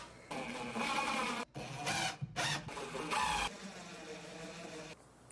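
A power drill drives 2-inch screws into plywood shelf legs, whirring loudly in several bursts with short pauses between them and then trailing off.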